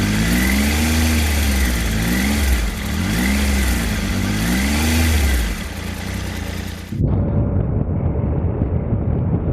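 A 2019 Triumph Tiger 800 XRx Low motorcycle engine, close and loud, revving in rising-and-falling sweeps for about seven seconds, then dropping to a steady, rougher idle.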